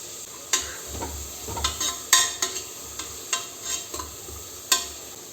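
Light sizzling of cinnamon, cloves and cardamom frying in oil in a pan, with intermittent scraping and stirring knocks, a handful of sharp clatters spaced irregularly, close by with no talking.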